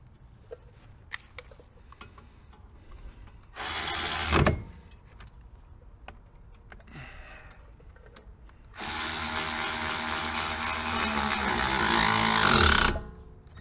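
Two bursts from a power tool, a short one and then a longer steady whir, while brake caliper bolts are installed and tightened on a Chevy Equinox, with light clicks and handling noises between them.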